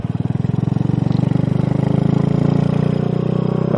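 Motorcycle engine running steadily in second gear after an upshift, a loud, close, rhythmic pulsing drone that builds slightly in revs and holds, with no talking.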